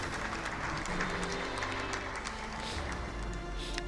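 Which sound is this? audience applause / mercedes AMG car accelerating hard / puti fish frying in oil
audience applause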